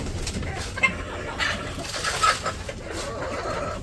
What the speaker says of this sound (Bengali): এই মুরগি বিরক্ত করে, বেশি খুবই বিরক্ত করে।